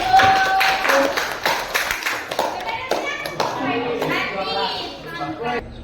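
A classroom of children claps in bursts of quick, sharp hand claps, close and loud, mixed with children's voices talking over them.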